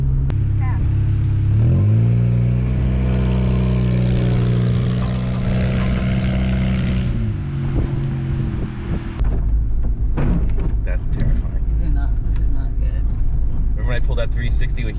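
Rear wheels of a Honda Civic wagon spin on snow and ice as the engine revs hard and steady, then the note drops and roughens partway through, with people talking nearby.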